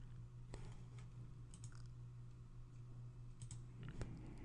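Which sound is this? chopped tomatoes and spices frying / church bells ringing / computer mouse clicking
computer mouse clicking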